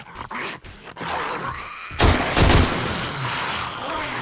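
An AK rifle in the survival game 7 Days to Die fires several sharp separate shots early on, then heavier loud bursts, with a busy game soundscape around them.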